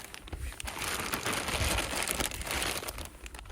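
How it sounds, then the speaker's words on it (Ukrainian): A plastic packet holding tent pegs and ties crinkles and rustles continuously up close as it is torn and handled, with no voices. "Зараз відкрию пакетик і детальніше покажу вам, що тут є."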